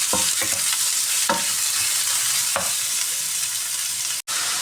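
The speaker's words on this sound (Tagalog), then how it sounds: "ilagay na po natin ang ating giniling." Ground meat sautés in a hot pan with a constant sizzle, broken by several sharp scraping stirs of a spatula, close up and with no talking.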